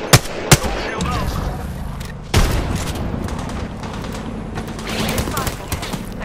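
Gunfire in Apex Legends: a couple of sharp shots, a burst, then scattered further cracks over a busy game-action bed, with talk during the fighting.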